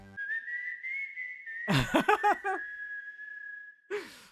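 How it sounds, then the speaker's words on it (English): A Chocobo GP character whistles a tune: one long, clear sustained whistled note, broken in the middle by breathy, rhythmic sighs and gasps, then the whistle resumes steadily and a final breath follows. "Whistling a tune."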